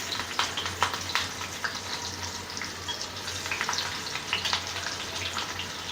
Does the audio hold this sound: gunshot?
no